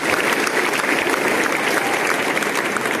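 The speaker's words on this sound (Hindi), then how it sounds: "इस विद्यार्थी के लिए आप तालियां बजाएं।" An audience at a school quiz event at a college in Gorakhpur claps for a student, a dense, steady burst of applause filling the room from start to finish.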